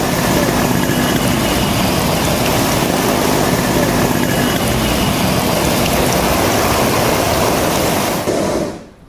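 Loud, dense rain roars through news footage of flooding in Nepal, a continuous heavy wash of water noise that fades out abruptly at the very end.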